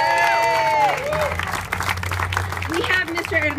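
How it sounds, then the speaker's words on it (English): An audience at a youth center community event applauds and cheers throughout, with crowd noise and speech mixed in over steady clapping. "Please give them a loud round of applause."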